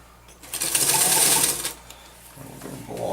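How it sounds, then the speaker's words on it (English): A Singer sewing machine stitches the lining sides of a barrel bag, a close, steady rapid mechanical whir that runs for about a second before slowing to a softer hum. "And sewing our sides in place for our lining"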